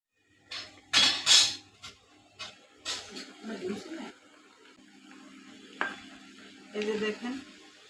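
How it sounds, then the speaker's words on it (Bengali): Banana pitha fries in oil in a pan, with loud bursts of sizzling and scraping stirs coming in uneven bursts and quieter bubbling between them. "এই যে দেখেন আমার পিঠাগুলো ভাজা হয়ে গেছে"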